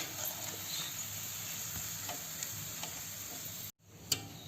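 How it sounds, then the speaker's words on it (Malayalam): Steady sizzle of cauliflower frying in hot oil, a continuous crackling hiss with occasional pops, cut by a brief silence near the end. "ഇങ്ങനെ നമുക്കെല്ലാം വറുത്തെടുക്കാം."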